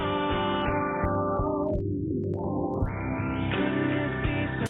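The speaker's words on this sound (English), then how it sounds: "you can hear the ringing in the filter or that sort of resonance" Music with a steep filter sweeping down and back up, leaving a ringing, resonant tone as the highs are cut away.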